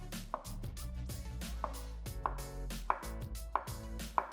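An avocado being sliced very thin with a knife, giving a steady series of about six crisp cuts that tap on a board at an even pace. The cuts are close but soft, with no talk.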